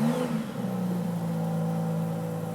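The quad exhaust of a 2019 Aston Martin DBS Superleggera gives a deep, steady engine drone with a brief rev at the start, then settles into a smooth, sustained note with no talking.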